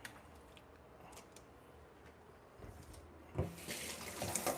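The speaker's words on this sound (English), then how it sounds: "And rinse this off." Tap water runs into a kitchen sink while a strainer is rinsed during dog food preparation, a steady faint hiss that swells louder and brighter toward the end, with no one speaking.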